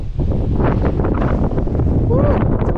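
Strong wind buffets the microphone outdoors near the coast at Jonathan Dickinson State Park, a loud, continuous rushing roar with gusty swells throughout.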